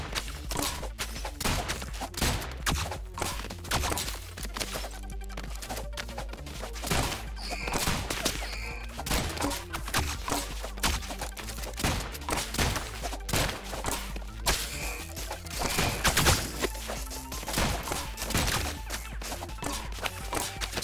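Gunfire from the video game Rounds crackles in dense, rapid bursts for about twenty seconds, with sharp repeated shots and thuds and no voices.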